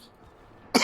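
A single sharp cough from a congested, unwell person right at the mic, bursting out suddenly after a near-silent stretch.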